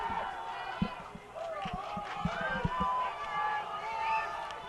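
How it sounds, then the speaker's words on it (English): Crowd noise swells at a college lacrosse game as both benches cheer with 45 seconds left in a one-goal contest, a steady roar with scattered shouts and thumps rising through the moment. "You can hear the crowd getting loud."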